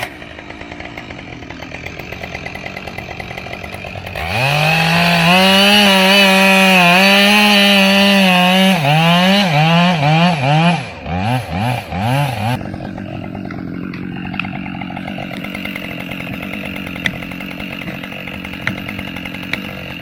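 A chainsaw roars up loud and close, its engine pitch surging and wavering as it bites into chainsaw chaps, then sputters and cuts out, leaving a quieter background.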